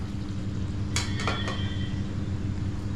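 A metal lid is set onto a cooking pan of oil-fried brinjal, making a quick cluster of three or four bright clinks and clatters over a low, steady kitchen hum and faint sizzle.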